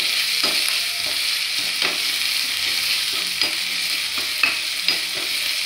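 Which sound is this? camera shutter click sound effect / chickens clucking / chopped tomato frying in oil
chopped tomato frying in oil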